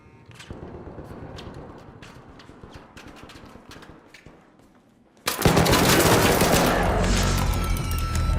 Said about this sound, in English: O cara falou Don't Shoot e atirou em mim